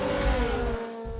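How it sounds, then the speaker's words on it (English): A DTM race car engine revving hard, loud and close, a sustained high-pitched roar that briefly dips before resuming. "When I rev up my engine to its absolute limit."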